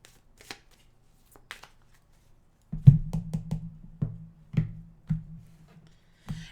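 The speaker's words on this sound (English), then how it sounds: "Give them a fast shuffle here." Tarot cards given a fast shuffle, nearby and crisp: a few faint flicks, then a run of sharp riffling bursts and slaps in an uneven rhythm, with no talking.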